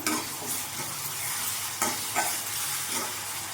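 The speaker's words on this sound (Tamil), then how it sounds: "இப்போது இஞ்சி பூண்டு பேஸ்ட் சேர்த்து ஒரு ரெண்டு நிமிஷம் இருக்கட்டும்" Chopped onions and ginger garlic paste fry in a pan for a potato and green peas kurma. A loud, steady sizzle is broken by a few louder scrapes from stirring, and no one speaks.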